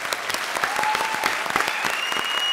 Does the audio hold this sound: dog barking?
no